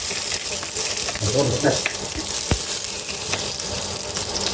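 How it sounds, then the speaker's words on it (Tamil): Green chillies and large chillies sautéing in a pan for turkey biryani, a steady broadband sizzle and frying hiss running throughout with light stirring clatter, close and fairly loud. "பெரிய மிளகாய் போட்டு நம்ம வதக்கு"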